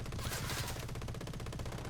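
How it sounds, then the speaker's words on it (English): Aircraft machine guns firing in a flight combat game, a dense continuous rattle of rapid shots over a loud engine roar, close and sustained throughout. "just using the machine guns"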